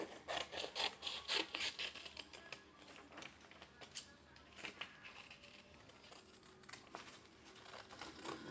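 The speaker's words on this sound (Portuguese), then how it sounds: "eu vou recortar aqui e vocês recortem aí em casa" Scissors cut out a paper template in rhythmic, close snips and crisp rustles, busiest at the start and continuing in quieter bursts.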